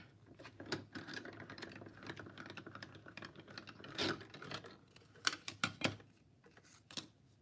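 A small embossing machine presses an embossing plate for scrapbooking, giving quiet mechanical clicks, taps and cranking sounds in irregular bursts, with sharper knocks near the end.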